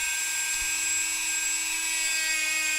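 A Dremel 4000 rotary tool with a sandpaper-type sanding bit grinding metal dance pad pieces, a steady high-pitched whine held alone at moderate loudness throughout.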